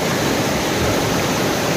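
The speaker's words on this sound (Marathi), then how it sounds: "मित्रांनो नदीला पाणी भरपूर आहे आणि आता पाऊस पण चालू झाला आहे" A river running high in full flow while rain falls, a steady dense rushing wash that stays loud and even throughout with no voices.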